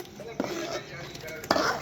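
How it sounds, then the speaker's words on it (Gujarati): A ladle stirs paneer curry with tomato gravy and peas in a pot, making two soft metallic scrapes against a quiet kitchen background. "પછી એને ચમચા વડે મિક્સ કરી નાખવાની."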